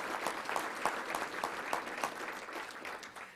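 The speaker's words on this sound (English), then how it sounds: "Let's give him a round of applause" Steady applause from a luncheon crowd at the Little Rock Touchdown Club fills the room for over three seconds, a dense, even wash of many hands clapping with no voices over it.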